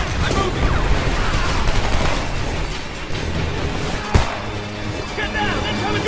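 Heavy, sustained automatic gunfire in a Homefront battle, a loud continuous rattle with a sharp blast near the middle, mixed with shouting voices.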